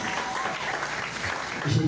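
A church congregation applauds during an Easter thanksgiving service, a dense, steady wash of clapping that holds at an even level for a couple of seconds.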